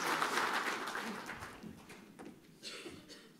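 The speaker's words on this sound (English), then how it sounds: "Let's make some noise for our friend Lydia." Audience applause for speaker Lydia at the 2023 Mining Health and Safety Conference, a burst of clapping that gradually thins out, with a brief swell near the end.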